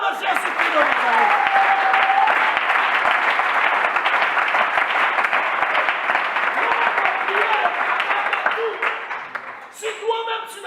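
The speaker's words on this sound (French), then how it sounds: "Qui acclame Jésus-Christ de Nazareth" Sustained loud applause with cheering from a large audience acclaiming Jesus Christ at a gathering, a steady roar of clapping that fades near the end as a voice starts to speak.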